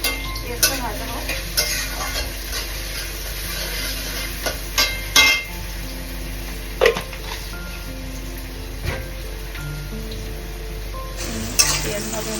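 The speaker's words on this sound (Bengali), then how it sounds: "পেঁয়াজ ভাজা হচ্ছে।" Onions fry in oil in a pan for a Bengali-style tadka, giving a steady low sizzle broken by occasional sharp clinks and scrapes of a utensil against the pan, with no talking.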